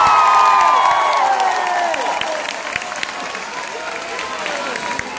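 A concert crowd at a show in Pescara applauds and cheers the band, a loud, dense wash of clapping and shouts with whistles rising above it, easing slightly over several seconds.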